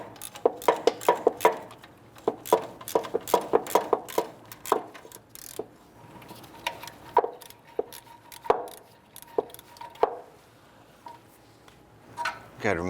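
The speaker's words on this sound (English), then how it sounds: "I'm going to go ahead and use our 15mm ratchet" A 15mm ratchet clicks while turning a bolt on the passenger-side exhaust manifold of a 2002-2008 Dodge Ram 1500, giving close, sharp metallic ticks in uneven bursts with short pauses between strokes.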